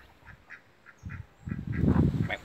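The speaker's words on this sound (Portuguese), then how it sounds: "Tem ganso." Geese and ducks call at a countryside farm, with scattered quacks early on, then a louder cluster of honks and quacks building toward the end, fairly close.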